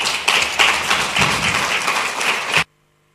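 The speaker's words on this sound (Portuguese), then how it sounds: "eu pedia uma salva de palmas para todos aqueles que organizaram este Congresso" Closing-session audience at a literacy, media and citizenship congress giving the organizers a dense, steady round of applause that ends abruptly into silence.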